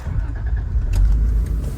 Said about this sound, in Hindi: चलो अब मैं गाड़ी चला रही हूँ